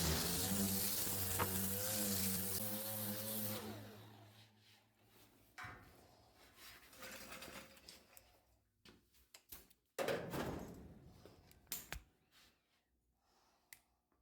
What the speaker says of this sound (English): Now I'm going to come back with a 8-inch orbital sander with